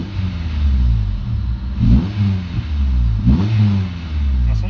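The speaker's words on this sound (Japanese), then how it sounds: "スプーンの N1 マフラー音大きいですね" A Honda S2000 AP1 engine with a Spoon N1 muffler idles with a deep, burbling exhaust note, blipped twice into short revving bursts that rise sharply and fall back, close and loud.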